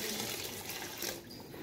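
Water pours into rice in a pot while matar chicken pulao is being made, a brief close splashing gush that eases off toward the end.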